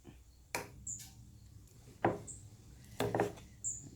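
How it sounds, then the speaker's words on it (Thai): Several sharp knife chops on a cutting board while preparing sugarcane and beef tendon with red ants, spaced irregularly, with a couple of quick double strikes and faint clinks between them. "หั่นหั่นหั่นซะก่อน"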